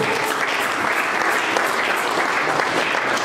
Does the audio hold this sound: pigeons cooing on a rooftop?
no